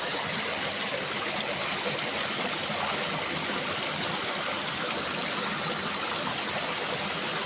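Water from a spring well flows steadily beside a stream, a close, continuous rushing and trickling that holds even from start to end with no voices.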